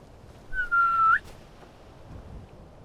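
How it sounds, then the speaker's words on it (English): A horse whistle in the video game Skyrim with the Requiem mod: a single clear, high, sustained whistle about half a second long that bends slightly at the end, alone over quiet background. "Now this is why we want the horse whistle"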